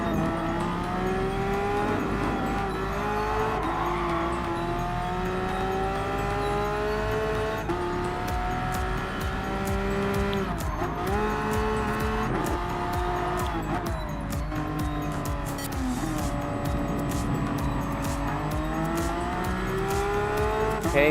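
Porsche Cup race cars in Gran Turismo Sport on the Dragon Trail Seaside track, engines droning and shifting pitch through gear changes, tires squealing through corners in a continuous loud close roar with no talk.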